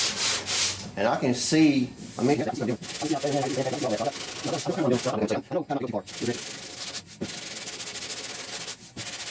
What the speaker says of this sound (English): But I'm gonna sand most of that out, if not all of it.